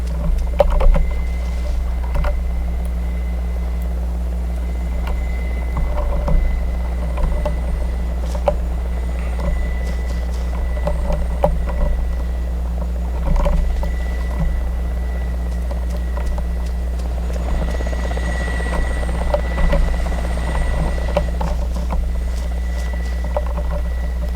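A helicopter coming around for another pass in ArmA 2's Namalsk Crisis mod, a loud, steady low rotor drone that holds the whole time, with scattered faint clicks and knocks over it.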